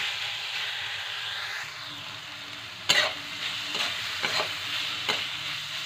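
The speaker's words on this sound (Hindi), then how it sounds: "हमने 1 इंच अदरक का टुकड़ा ले लिया है। अब इसे भी 1-2 मिनट तक पका लेते हैं।" Green chillies and a piece of ginger fry in a pan with a steady close hiss. Sharp clatters of a spoon against the pan cut in as the pieces are stirred.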